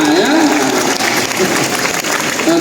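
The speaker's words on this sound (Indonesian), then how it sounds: "Oke, tepuk tangan kita semua ya." Audience clapping during a Catholic feast-day mass at a Santo Dominikus school foundation, a dense steady wash of applause lasting a few seconds with some voices mixed in.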